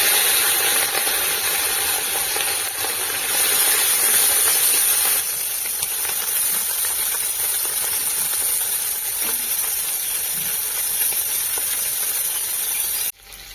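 Small fish fry in hot oil in a wok, giving a steady, loud sizzling hiss that runs unbroken and then cuts off abruptly near the end, with no talking.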